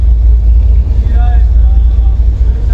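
A boat engine runs at a steady low rumble on a smoky, foggy trip, loud and close with constant droning throughout.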